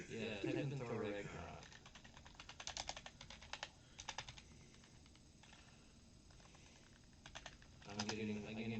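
Rapid bursts of keyboard typing, clustered clicks stopping and starting near the mic, with people chatting casually over and between the keystrokes.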